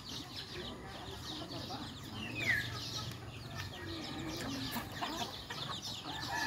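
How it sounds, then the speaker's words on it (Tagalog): Free-range native chickens mixed with a couple of Rhode Island Red hens, plus a rooster, cluck and murmur continuously in a faint, outdoor farmyard chorus at a modest distance. "Bali yung nasa free range ngayon ay mga native chicken lang. Pero may dalawang nakahalo na Rhode Island Red ko."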